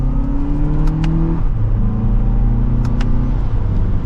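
A 2024 Lexus TX500h F Sport pulls hard in sport mode in second gear, its engine note climbing steadily, dropping with a shift, then climbing again, heard from inside the cabin as a loud, continuous drone.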